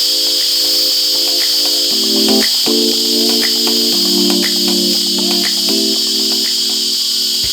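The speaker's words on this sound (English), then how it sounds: "And the cicadas are rumbling in my ears." Cicadas in Sri Lanka drone in a loud, steady, high-pitched buzzing chorus that stays constant throughout, with lower tonal hums shifting underneath.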